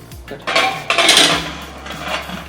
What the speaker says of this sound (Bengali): প্রেশারের মুখটাকে আমরা লাগিয়ে দিলাম